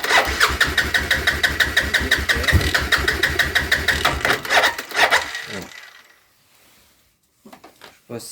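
A quad bike engine revs in repeated pulses as the accelerator is pressed during mechanical repair work, loud and close for about five seconds before cutting out, followed by near silence and a brief clatter.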